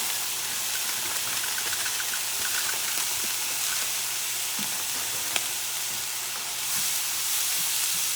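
Cauliflower rice sizzles steadily in a hot pan over high heat, a continuous close hiss with faint stirring scrapes and a few small clicks.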